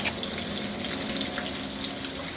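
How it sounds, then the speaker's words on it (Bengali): Small peeled potatoes fry in hot oil in a pan, a steady, even sizzle and crackle with faint bubbling pops, heard close and moderately quiet. "এগুলাকে একটু ভেজে নিব।"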